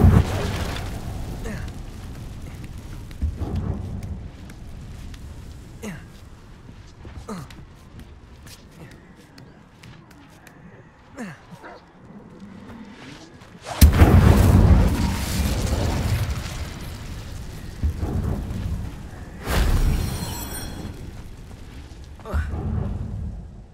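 A fiery Incendio spell cast in Hogwarts Legacy bursts out as a loud whooshing blast, followed a few seconds later by a second shorter burst, over quieter game ambience with footsteps and small clicks.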